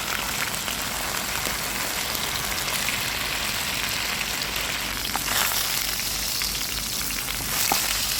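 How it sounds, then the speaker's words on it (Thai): Cabbage frying in a hot pan, a steady close sizzle and crackle that runs without pause and stands alone with no voices. "ต่อไปเลยเราก็จะเอากระหล่ำปลีลงไป ที่กับไฟนะคะ ให้มีกลิ่นหอมค่ะ"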